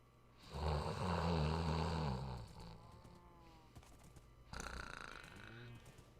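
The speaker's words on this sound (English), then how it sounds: "She was snoring." Two snores from a person, a long rasping one followed by a shorter one after a quiet pause, recorded faintly and up close.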